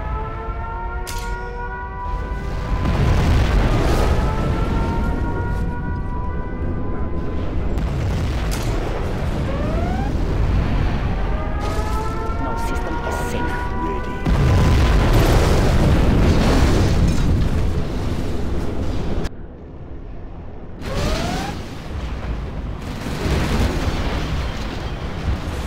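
Nuclear missile strike in Command & Conquer Generals Zero Hour, a Tank Generals battle: long, loud rolling booms and rumbling blasts with tonal warning sweeps, swelling repeatedly over about twenty-five seconds.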